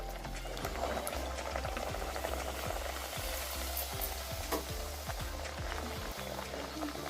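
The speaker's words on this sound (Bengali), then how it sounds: "গরম তেলে কচুরিগুলো পরপর ভেজে দেখাচ্ছি আপনাদের। গরম তেলে কচুরিটা ছেড়ে দিচ্ছি।" Pea-filled kachori frying in hot oil, giving a continuous bubbling sizzle close by, with a run of regular clicking ticks underneath and no voices.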